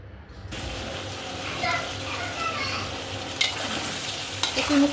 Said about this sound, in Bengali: তো আমি এখন কচুরমুখিটাকে সুন্দরভাবে কষায় নিব